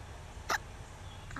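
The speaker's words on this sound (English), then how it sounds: "Oh. I love hiccups." A child gives a single quick hiccup, a brief sharp catch standing out against quiet room background.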